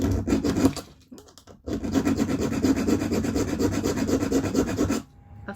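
A hand file rasps back and forth across a small metal shadow-box pendant in quick, steady strokes, close and fairly loud, pausing briefly after the first second before a long continuous run of filing that stops near the end.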